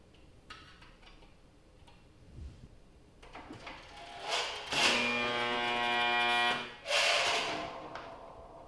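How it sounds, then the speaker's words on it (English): Spot welding on a sheet metal box, with a few short crackling electrical bursts that swell into a steady buzzing hum for about two seconds, then a second burst after a brief pause. "push to spot weld it together"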